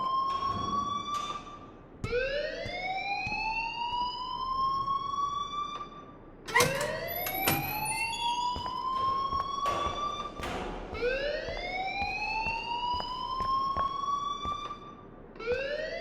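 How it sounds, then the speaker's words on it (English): An electronic alarm in the video game Life is Strange sounds in repeated rising, siren-like sweeps, each lasting a few seconds, with short gaps and occasional thumps between them, loud and alone with no speech. "please turn off that alarm"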